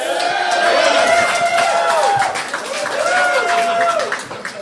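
Bar or comedy-club audience clapping and cheering loudly, with whoops and shouted voices rising and falling across the crowd noise.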